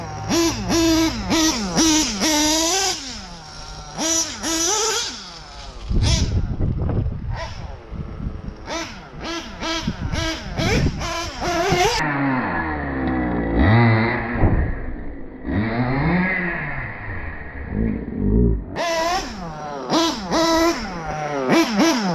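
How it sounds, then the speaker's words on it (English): A small nitro engine running rich, its buzzing, tonal note rising and falling as it revs and settles, broken by short rough bursts and stretches of lower, wavering idle. "Nice little idle. It's running pretty rich."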